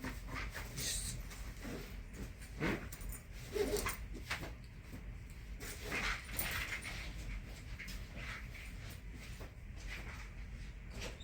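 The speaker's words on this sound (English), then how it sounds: "Did you really have to bark?" A dog barks and whimpers indoors in several sharp, loud bursts spread across the clip, with scuffling and thumps in between.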